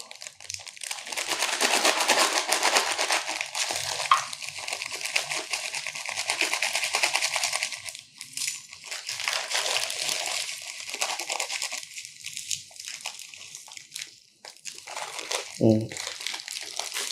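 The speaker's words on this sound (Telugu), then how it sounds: "ఇట్లా పెట్టిన తర్వాత ఇందులో రాళ్ళ ఉప్పు పోసుకోండి" Rock salt pours and rustles into a clay lamp dish with a steady crunchy, granular hiss and a few sharper clicks near the end. A person talks over part of it.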